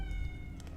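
Faint, distant cat meowing from the video game Little Nightmares: Secrets of the Maw, a drawn-out flattened meow over low rumbling game ambience, with a couple of brief higher cries near the end.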